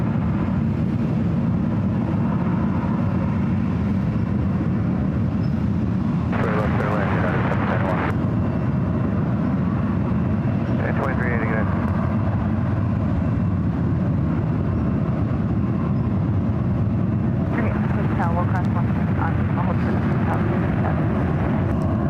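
Airliner at San Francisco International Airport banking left, a continuous loud roar of jet engines filling the scene, with brief bursts of other noise and faint voices mixed in.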